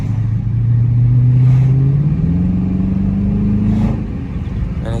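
A new car accelerates on a drive to work, its engine note climbing steadily in pitch as the gas is pressed, loud and close with no talking.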